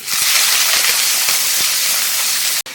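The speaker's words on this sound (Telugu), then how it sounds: "ఇప్పుడు హై ఫ్లేమ్లోనే మనము చికెన్ ఫ్రై చేసుకోవాలండి" Chicken frying in oil in a pan on high flame gives a loud, continuous close hiss that holds steady and cuts out briefly near the end.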